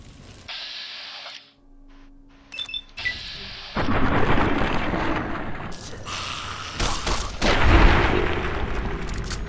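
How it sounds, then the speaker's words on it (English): In the Fallout video game, a gunshot fires and a head explodes, giving a sharp blast followed by a heavy, rumbling burst and a drawn-out noisy tail, with game sounds before it and no speech. "There, you got your head explosion"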